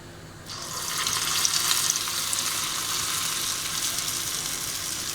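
Urad dal vada batter dropped into hot oil, starting with a sudden surge of bubbling and then settling into a steady, dense sizzle heard close up with no talking.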